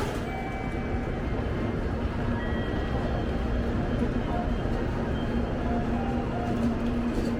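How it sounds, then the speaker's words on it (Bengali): A Japanese Shinkansen bullet train runs close by with a loud, steady rumble and roar that holds at an even level throughout. "ওই দেখুন পিছনে ট্রেন আসতেছে, বুলেট ট্রেন"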